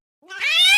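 A person imitates a cat with a single rising, nasal meow that swells from silence and holds loud and close.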